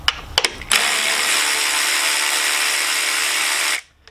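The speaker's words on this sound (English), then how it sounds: "we're going to remove this 10mm bolt here" A power tool backs out a 10mm bolt on a 2019 Jeep JL, a few clicks followed by a loud steady whir of about three seconds that stops abruptly.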